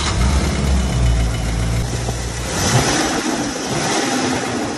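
Mercedes-Benz 350 SE with a V8, automatic transmission and mechanical fuel injection, running steadily and loud throughout, a low engine drone with a slight rise in revs midway.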